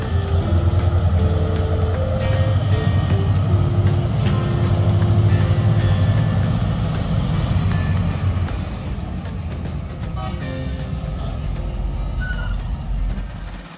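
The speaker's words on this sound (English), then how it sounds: "another Cat 793 F truck is dispatched to tow the stuck vehicle out of the mire" A Cat 793F mining truck towing a stuck haul truck out of mud at a Queensland mine, with a heavy steady diesel engine drone, repeated reversing beeps and a brief air hiss, loud and close with no talk.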